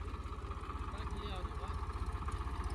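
Eicher 557 tractor engine idling in an even, steady low throb with a rapid pulse, moderately loud and unbroken throughout.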